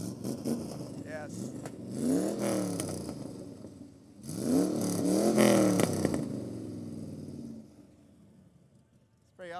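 A 1934 Ford Coupe engine at a car show rises in two loud revving surges that climb and fall in pitch, then drops back to a rough idle, with voices nearby.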